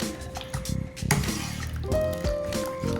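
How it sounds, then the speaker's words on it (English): Ricotta curds and whey ladled over cheesecloth, with wet splashes, drips and soft squishing scoops close by, irregular and busy over a few seconds. "I'm gonna start to ladle it over the cheesecloth."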